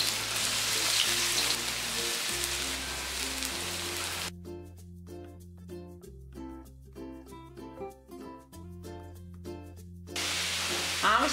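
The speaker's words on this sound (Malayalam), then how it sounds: "ഇതിലേക്ക് സവാള ചോപ്പ് ചെയ്തിട്ട് വഴറ്റി കൊടുക്കാം" Chopped onion sautéing in oil in a pan, a steady fizzing sizzle under soft background music, strongest at the start and again at the end.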